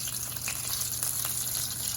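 Chicken pieces coated in buttermilk and flour sizzle in hot oil, a steady dense crackle heard close and alone for a couple of seconds.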